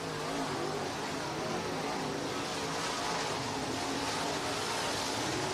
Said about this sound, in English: Down into turn number 3 and 4, still Jesse Enter King, your race leader.